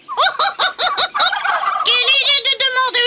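Turkeys gobble in a rapid series of loud, close, warbling calls with no gaps, used as a sound effect in a French Oui Oui children's story.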